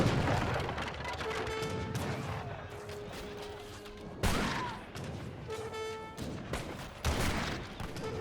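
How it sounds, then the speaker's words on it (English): Hand mortars fire during a real-time strategy battle in Age of Empires 3, with several booming blasts and scattered gunfire over busy game noise and tonal unit sounds. "We've got hand mortars being shipped on in."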